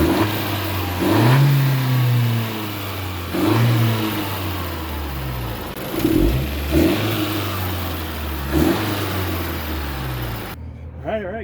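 Stock Honda Civic with the L15 turbo engine revs repeatedly, several rising surges that settle back to a steady idle, heard up close with a voice talking over it.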